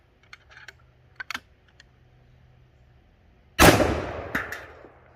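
A .357 Magnum round fired from a 12 gauge shotgun at a cinder block outdoors, one sharp loud blast with a decaying echo, preceded by faint handling clicks.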